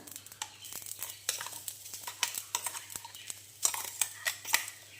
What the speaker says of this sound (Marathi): बघा आपल्याला आवाज येत असेल तडतडण्याचा